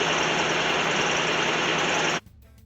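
A 1987–91 Chevy K5 Blazer engine idles steadily and loud at close range after a fuel pump repair, then cuts off abruptly near the end, leaving a quiet tail.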